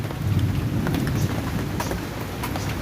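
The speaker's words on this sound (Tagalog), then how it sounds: "Umuulan mga idol, oh." Steady heavy rain pouring down, a dense continuous hiss with a low rumble underneath, close and loud with no voices.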